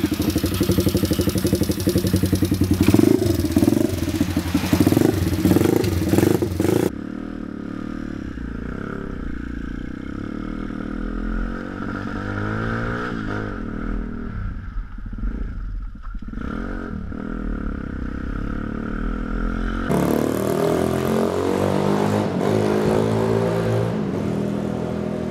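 The engine of a Kurz RT1 enduro pit bike runs continuously nearby, a loud, rough throttle-driven roar that drops to a lower idle partway through and then picks up again toward the end.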